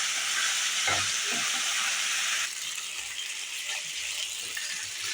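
Drained boiled pasta tossed into a hot pan of sizzling spice tempering gives a loud frying hiss with scraping stirs, the sizzle dropping slightly in strength partway through as the pan settles.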